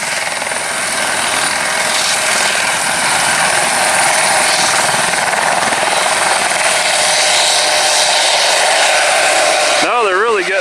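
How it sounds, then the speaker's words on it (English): Police helicopter taking off, a loud steady roar of engine and rotor wash filling the whole scene close by, with faint speech underneath and a sudden drop at the very end. "They're taking off with the police helicopter."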